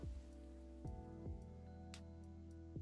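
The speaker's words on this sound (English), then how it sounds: "Oh, rain stopped." Steady rainfall in the café game Coffee Talk 2, a soft, constant patter of drops heard faintly under a calm piano-and-synth music bed with a few gentle chime notes.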